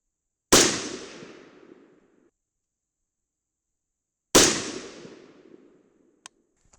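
Two loud, close .22 Nosler rifle shots fired at a target at the range, spaced about four seconds apart, each a sharp crack followed by a decaying echo, with a faint click afterward.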